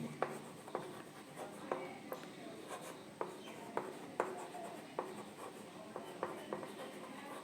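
Pen or chalk writing out a trigonometry lecture note, with repeated scratchy strokes and taps in an irregular rhythm, close and fairly quiet over faint room hiss.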